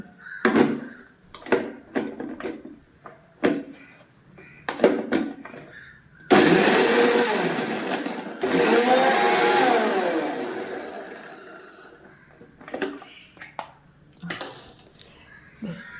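A mixer grinder whirs loudly in two short bursts, roughly crushing dried red chillies, surrounded by clatter and handling noises before and after.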